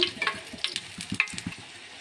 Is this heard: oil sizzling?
yes